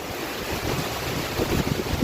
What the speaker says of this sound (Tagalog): lumakas na naman yung hangin mga lods